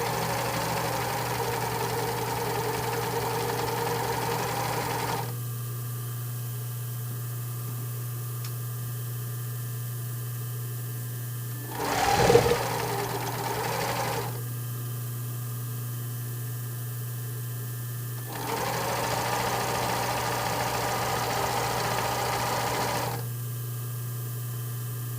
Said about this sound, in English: And so I'm sewing it on the inside so that way I can kind of fold it over on itself